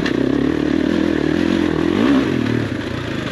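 A motocross bike ridden on enduro terrain, its engine droning steadily and close, pitch sweeping up and down as it accelerates, with some clattering underneath.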